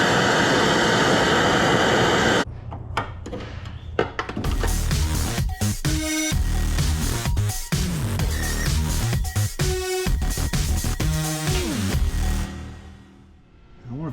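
A torch heats a brake line fitting on a 1976 Chevy Luv, a steady loud roaring hiss that runs alone for most of the stretch, broken by a few clanks and tool taps.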